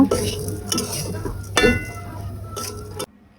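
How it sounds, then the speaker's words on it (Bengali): Pan of fried laccha semai vermicelli lifted off a stove, with metallic clinks, scraping and a faint sizzle close by over a steady low hum. "এখন আমি চুলা থেকে নামিয়ে নিব"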